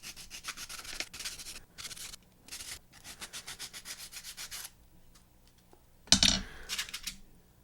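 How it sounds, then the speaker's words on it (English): Sandpaper rubs in quick, raspy strokes against a small plastic V-Cube 3 corner piece, short bursts separated by brief pauses, then a sharper clatter near the end, close and fairly quiet. "I'm just going to sand a little piece out and see what happens here."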